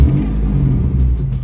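Car engine at a Japanese car meet rumbling and revving steadily, a close, loud low growl with slight rises in pitch throughout, with no talk over it.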